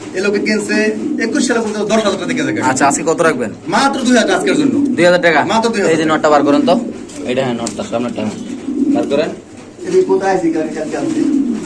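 Racing pigeons coo repeatedly and fairly close, their soft throaty calls running under steady conversation between people.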